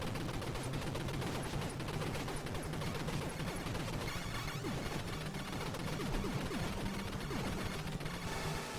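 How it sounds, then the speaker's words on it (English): Rapid, continuous gunfire in the NES game Contra, a dense unbroken barrage of shots with overlapping blasts, loud and steady throughout with no voices. "Rapid fire."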